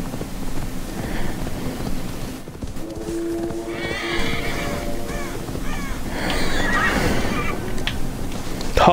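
Horse whinnying in the video game Assassin's Creed Valhalla, a drawn-out neigh with hoofbeats and scattered bird caws over a steady wind-like wash of game ambience.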